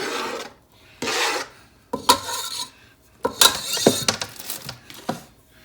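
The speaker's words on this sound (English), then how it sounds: "got our pot here, our carrots going in" Chopped carrots tumble into a soup pot in several separate bursts, dry scraping and clattering pours with short pauses between them, close and fairly loud.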